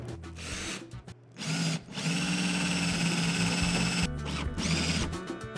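A power drill driving 3/4 inch number 8 self-tapping screws on an electric bicycle camper build, whirring close up in long bursts broken by short pauses and changes in pitch.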